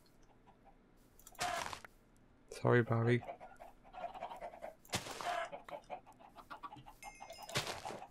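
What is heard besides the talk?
chickens clucking in Minecraft video game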